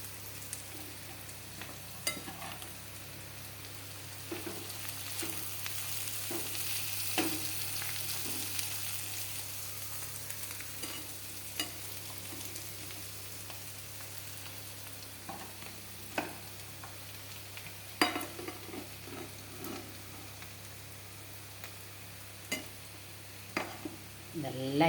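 Kerala-style thoran is stirred in a pan as mustard-seed tempering is poured in, producing a soft, low frying hiss with intermittent spoon scrapes and light clinks of metal cookware, occasionally louder toward the end.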